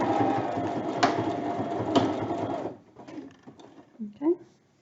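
A sewing machine runs in a fast continuous whir while stitching a fabric plant pot cover, then stops abruptly, followed by a few quieter handling clicks and a short voice.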